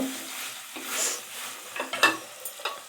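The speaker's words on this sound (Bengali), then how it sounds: "এবার এর মধ্যে দিয়ে দেব সেই ভেজে রাখা পনির দিয়ে এটাকে হালকা ফ্রাই করে নেব" Already-fried paneer being lightly fried again in a pan, stirred with a utensil that scrapes and clicks against the metal over a soft, steady sizzle, with a few sharper taps near the end.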